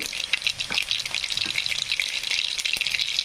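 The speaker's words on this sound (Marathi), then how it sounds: "तापलं हे तेल कढई तापल्यामुळं तेल पण तापलं लवकर तर मोहरी टाकून घेतली" Mustard seeds pop and splutter in hot oil in a kadhai, a dense crackling sizzle with scattered sharp pops, close and steady, no talk.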